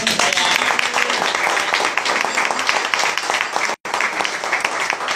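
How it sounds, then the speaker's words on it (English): Audience applause at a panel discussion on criminal justice reform, a dense, steady clapping from a room full of people that carries for about five seconds with a brief break near the end. "give Brent a special round of applause for filling in to help us fill out our panel"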